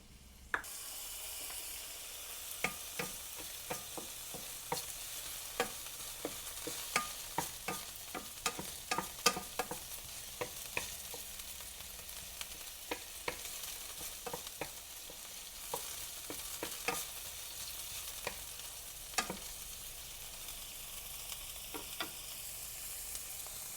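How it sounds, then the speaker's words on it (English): Frozen pre-diced onion sizzles steadily in hot oil in a pan, a constant close hiss broken by frequent sharp crackles and pops. "to my hot oil, I'm going to add about a 1/4 cup of onion"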